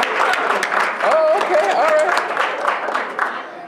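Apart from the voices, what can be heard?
audience applause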